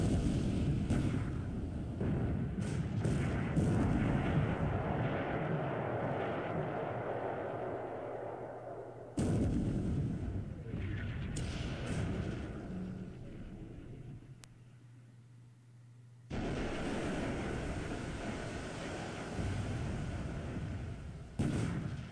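Naval shellfire rumbles in the War in the Pacific video game, with long stretches of dense booming noise broken by abrupt cuts and renewed blasts, steady and moderately loud throughout.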